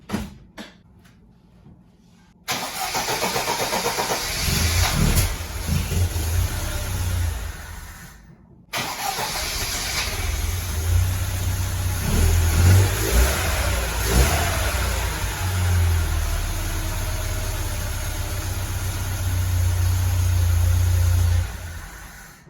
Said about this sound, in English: Hopefully it starts and it keeps idling.